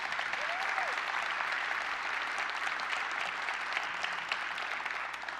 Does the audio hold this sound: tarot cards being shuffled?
no